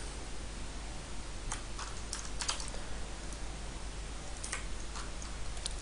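A player in a clan-war match types on a computer keyboard. Faint, scattered clicks come in small clusters over a steady background hum.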